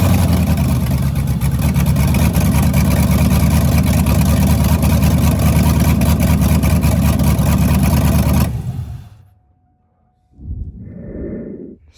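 A turbocharged 2001 Camaro SS V8 engine running loud and close, a dense steady roar for about eight seconds before cutting off abruptly, followed by a brief quieter burst.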